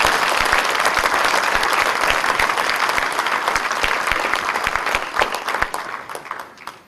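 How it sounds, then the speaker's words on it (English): An audience gives sustained, dense applause after a speech, loud and close, with claps staying steady before slowly thinning out toward the end. "I would request everybody to give him another rousing applause"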